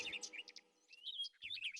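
Trained parrots flying loose in a royal palace hall give off a run of bright chirps and whistled calls, clear and close, with a short silent gap partway through and no talking.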